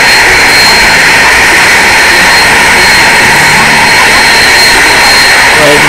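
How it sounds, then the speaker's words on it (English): Airbus A380 jet engines roar in a flight video game as the big plane barrel rolls, a loud, constant whine and rush with a person talking over it. "I love barrel rolling this big plane."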